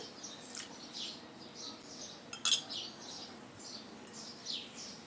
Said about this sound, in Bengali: গুলিয়ে নিলাম ভালো করে কর্নফ্লাওয়ারটা দিয়ে দিচ্ছি